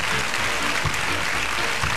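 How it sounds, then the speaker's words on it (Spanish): A television studio audience applauds steadily, a dense, even wash of clapping filling the whole stretch without pause. "Aplausos si quieren."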